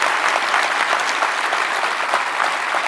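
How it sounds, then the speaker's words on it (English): A seated audience at a mental health symposium applauds, steady and full-bodied throughout, a continuous patter of many hands with no voices on top. "So really, applause to David."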